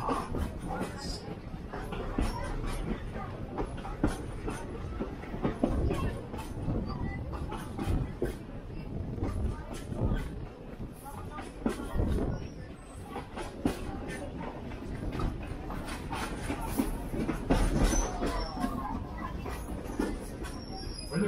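A heritage railway train on the Zig Zag line runs steadily for over twenty seconds, with a continuous rumble and rattling wheel noise from inside the carriage, while a voice talks over it.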